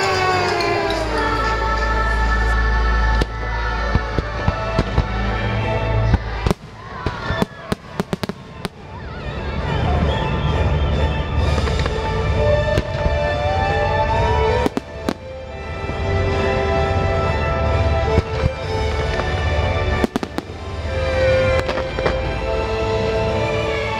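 A fireworks display at EPCOT, shown in the Forever show of 2021: loud, sustained bursts and crackles keep going across the whole stretch, with sharp booms in clusters and a steady roar of crowd and music beneath.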